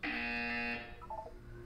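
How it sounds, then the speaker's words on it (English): Electronic buzzer in the Portal 2 video game: a steady, loud harmonic tone held for about three quarters of a second, then cut off, followed by a few brief softer chime-like blips. "You will hear a buzzer."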